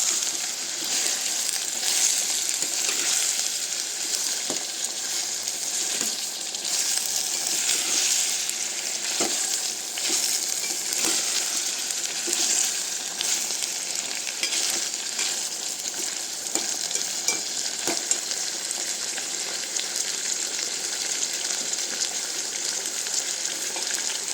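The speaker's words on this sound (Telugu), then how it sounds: "ఇప్పుడు వంకాయ ముక్కలు వేస్తున్నానండి." Eggplant pieces sizzle steadily in a pan for a long stretch, with intermittent scraping and stirring clicks from a spoon, close and moderately loud with no talk.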